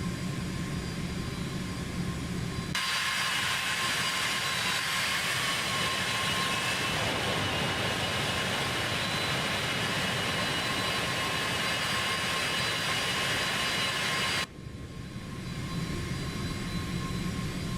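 Cessna Citation X (C750) jet engines in X-Plane 12 roar in a loud, steady broadband rush with a thin whine on top, then the level drops abruptly near the end and the roar continues more quietly.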